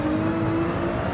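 Race car engine in Gran Turismo 7, a steady loud whirring drone with a held pitch as the car accelerates, heard alone.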